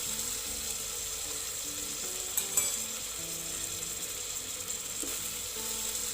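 Chili powder being stirred into a cowpea pulao masala, a steady close sizzle of frying with soft scraping and a couple of brief clinks from the pan, no voices.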